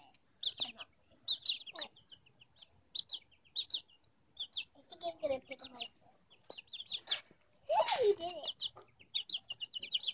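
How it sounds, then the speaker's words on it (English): Small chickens cluck and chirp in bursts across the clip, close by, while people talk over them at times. "The little chickens are afraid because they think we're gonna hurt them."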